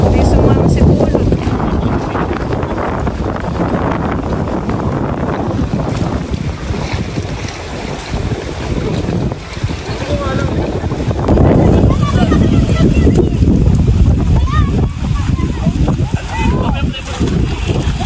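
Strong wind buffets the microphone beside a fish pond, a loud, continuous roar that surges and eases for the whole stretch.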